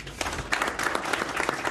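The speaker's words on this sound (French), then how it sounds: "Vous pouvez l'applaudir." Applause from an audience at a French sports draw ceremony honouring a European vice-champion, a dense, steady patter of many hands clapping at moderate loudness throughout.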